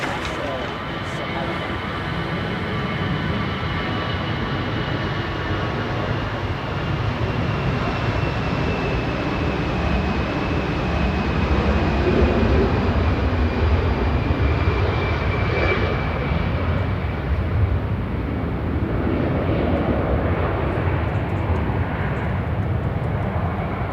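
An Airbus A320 jet at Manchester Airport roars steadily on departure, a loud, broad engine rumble with a thin whine above it that swells and slowly fades over half a minute, while a person talks underneath.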